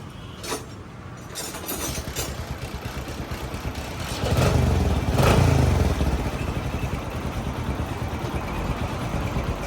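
A motor engine, said to start without fuel, fires up and runs with a rapid clattering putter, rising louder midway and then settling into a steady close idle.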